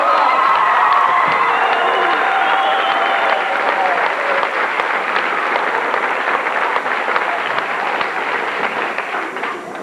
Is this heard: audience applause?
yes